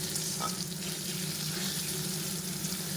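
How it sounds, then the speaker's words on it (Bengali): Potatoes with a little salt fry in a pan, giving a dense, continuous sizzle with soft stirring rustles underneath, steady and fairly quiet, close by and without speech. "এরপরে আলুগুলো দিয়ে দিলাম, একটু লবণ দিয়ে দিলাম। নাড়াচাড়া করে নিই,"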